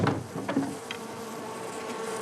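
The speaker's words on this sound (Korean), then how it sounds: "양봉가는 수시로 벌통을 열어 벌들의 동태를 살핍니다." Honeybees buzz steadily in an opened hive, a dense continuous drone close by with a few louder passes of individual bees near the start.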